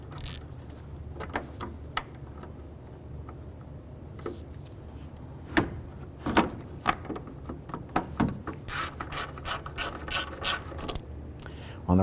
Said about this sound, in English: Let's now go ahead and get our screw started.